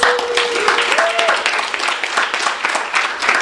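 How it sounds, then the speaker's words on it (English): An audience at an author's reading of his debut novel claps warmly, a dense, fluttering round of applause sustained across the clip, with a brief voice sounding at the start. "Let's please give him a warm round of applause."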